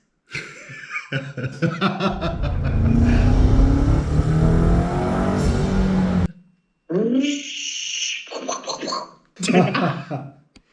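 A person mimics a BMW M5 engine fitted with an aftermarket intake, with a long, rising vocal vroom, followed by laughter and brief talk.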